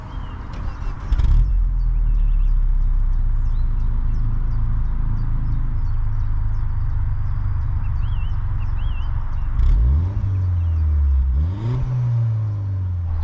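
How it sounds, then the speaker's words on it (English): A Peugeot RCZ Asphalt THP200 with a backbox delete and quad exhaust exits idles in a steady low drone, with a couple of brief revs near the end, while birds and insects chirp clearly over it outdoors. "what it is sounding like to do a backbox delete with a quad exit on an RCZ"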